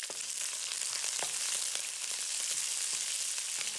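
Black beans and jalapeno fry in hot oil in a wok, giving a bright, continuous crackling sizzle with frequent small pops throughout.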